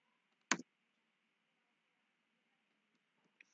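A computer mouse clicks while drawing in AutoCAD: one sharp double click near the start, then a faint single click near the end, over a quiet room hum.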